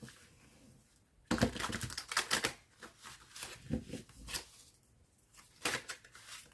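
Tarot cards are shuffled by hand up close, coming as quick riffling bursts of papery flicks separated by brief pauses, with no voice.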